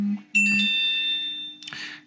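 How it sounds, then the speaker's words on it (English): A WhatsApp message notification on a phone rings out as a short chime, sounding twice with bright sustained tones, close and clear against a faint low hum in a quiet room while a Volvo FH4 model truck is being built. "Trucker J messaging on WhatsApp."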